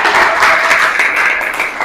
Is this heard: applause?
yes